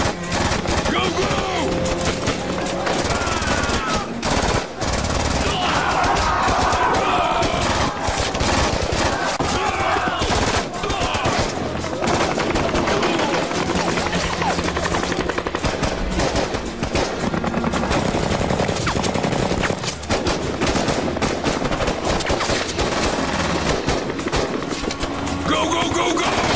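Dense, continuous bursts of automatic and single-shot gunfire crackle loudly for the whole stretch, mixed with shouting voices amid an intense firefight.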